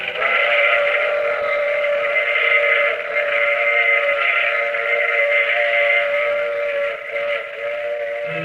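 A loud, sustained steam train whistle holding a steady chord for several seconds, with a faint rumble beneath.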